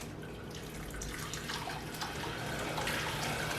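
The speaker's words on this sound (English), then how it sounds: "I'll go ahead and get the rest of this broth strained out" Fish bone broth for Jamaican fish tea pours steadily through a strainer, making a continuous splashing, trickling stream of liquid that runs alone with no talk over it.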